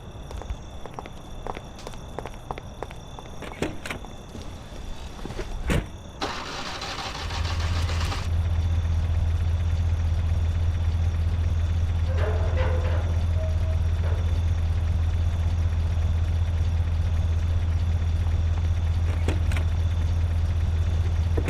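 In the Mafia video game, footsteps and light clatter give way to a car engine starting, which then settles into a loud, steady, low idle that runs to the end.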